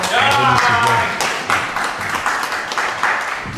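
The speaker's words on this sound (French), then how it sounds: "Applaudissez-la s'il vous plaît au moins." Audience clapping bursts out in a small room, a brief patter of hands that fades quickly, with a voice talking over it.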